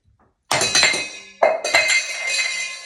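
Black and white Russian cocktail being poured back into a glass, with bright glassy clinks and clatter of ice striking the glass in two close bursts, loud and near with no talk.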